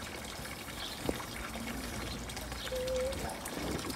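Water running from a garden hose into a waterfall feature being filled with stones, a steady faint trickle and splash with low background noise and a brief tone.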